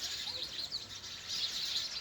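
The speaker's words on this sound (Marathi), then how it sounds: "आपल्याला वाटते फक्त चिवचिव करतात पण काहीतरी बोलतात त्यांच्या भाषेत." Sparrows chirping outdoors in a village, a flock's quick high tweets and twitters overlapping continuously, fairly faint with no talking.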